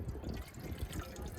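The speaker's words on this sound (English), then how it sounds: "Put about an inch of water in the bottom." Water poured into a pot, about an inch for soft-boiling an egg, making a low, gurgling splash that runs steadily for a moment at close range with no talking.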